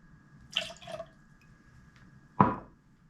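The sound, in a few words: pouring lemon juice into cocktail shaker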